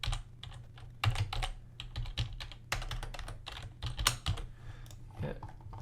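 A computer keyboard clatters under quick, uneven bursts of keystrokes, close and clear, while building a top-down action adventure game, with occasional quiet speech between the bursts.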